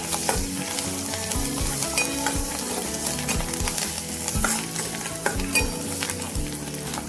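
Turmeric, red chili powder and coriander are stir-fried in a hot pan for a kurdai vegetable dish, giving a steady close sizzle with repeated scraping stirs throughout and no talking.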